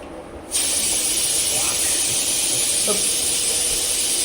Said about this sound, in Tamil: குக்கர் விசில் வருது பாருங்க